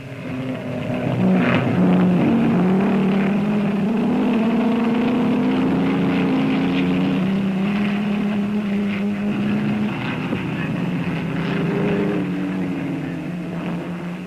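Racing cars with roaring engines pass the pits on a circuit, a steady loud drone with shifting engine pitch lasting throughout, with no voices.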